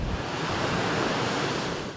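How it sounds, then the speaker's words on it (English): Rough surf crashes steadily at Hightower Beach in Central Florida after offshore storms, a dense, continuous roar of breaking waves mixed with gusting wind buffeting the microphone, loud and close with no let-up. "Surf's up at Hightower Beach."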